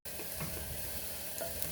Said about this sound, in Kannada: ಈರುಳ್ಳಿನ ಚೆನ್ನಾಗಿ ಫ್ರೈ ಮಾಡ್ಕೋಬೇಕು, ಒಳ್ಳೆ ಫ್ಲೇವರ್ ಬರಬೇಕು, ಕಲರ್ ಚೇಂಜ್ ಆಗಬೇಕು.